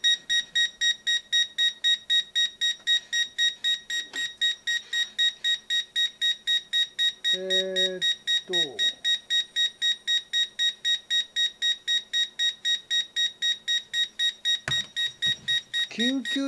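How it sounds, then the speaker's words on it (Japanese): A small FPV drone, the AIRJUGAR AJ1001, sounds its battery warning as a fast, steady train of high-pitched beeps running throughout, with brief speech breaking in near the middle and end. "ピピピ、え、バッテリーちょっと待って"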